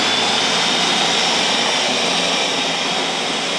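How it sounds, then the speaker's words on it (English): A kitchen blender whirs continuously at full power, churning green seasoning, a loud steady motor roar with no pauses from start to finish. "So we're gonna blend it."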